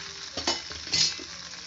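Onion frying in hot oil in a pan with a cinnamon stick for a Tamil-style pasta, a steady close sizzle with a few louder bursts of stirring, no one speaking.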